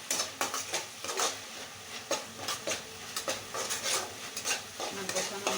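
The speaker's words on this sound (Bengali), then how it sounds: "2 মিনিট এভাবে কষিয়ে নেব।" Ghugni masala with a little water is sautéed and stirred in a pan, with repeated scraping strokes of a spoon over a low sizzle. The strokes fall at a steady pace, close by and with no speech.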